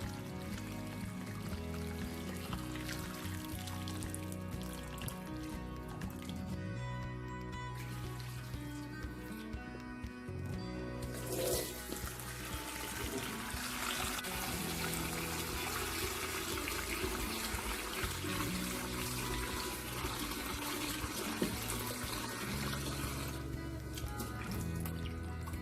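Hot water from a kitchen tap runs over Chinese cured sausages and pork being rinsed, a continuous close splashing and trickling with shifting tone as the meats are handled under the stream.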